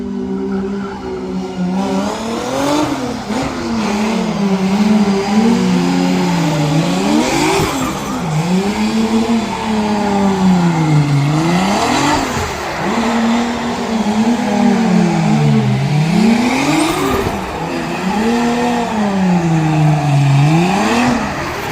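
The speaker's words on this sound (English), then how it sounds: "They started their motors." Formula Drift race car engines at Long Beach rev hard and repeatedly, loud rising and falling wails in waves that overlap as several cars warm up, with no talking over them.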